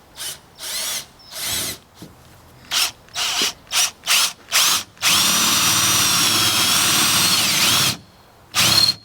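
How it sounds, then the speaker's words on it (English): A power drill with a 3/8 inch metal bit bores holes in an aluminum duck boat, loud and close, running in short repeated bursts, then one long sustained whine that pitches down under load, then a final short burst. "You'll need a 3/8 inch bit, aluminum metal, not a wood bit obviously. And you want to drill your front holes first."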